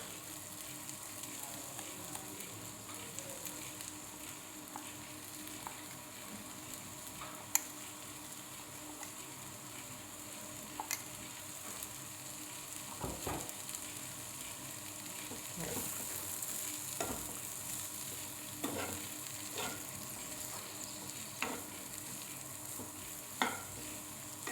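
Grated coconut and jackfruit seeds for a thoran are stirred in a hot pan over low heat, with a steady soft sizzle and repeated close scraping and tapping strokes of the spoon.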